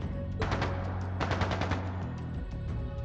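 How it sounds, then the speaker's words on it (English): Bursts of rapid automatic gunfire crackle in the video game Trails of Cold Steel II, two loud rattling volleys separated by a short gap, then a few scattered trailing shots, with no talking. "That sounded like gunfire."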